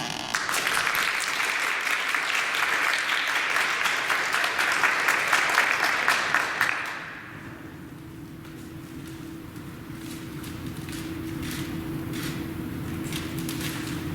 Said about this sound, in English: Please give a big round of applause to our first-year honoree.